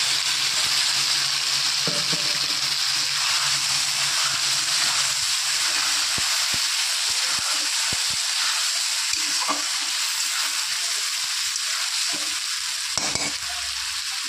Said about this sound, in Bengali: এবার দিয়ে দেবো আদা পেঁয়াজ রসুন টমেটোর যে পেস্টটা করে রেখেছিলাম সেই মশলাটা।